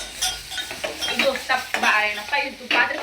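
Food roasting in a home kitchen pan, stirred with a utensil: scraping, clinking strokes and bursts of sizzle in an uneven rhythm, close and fairly loud.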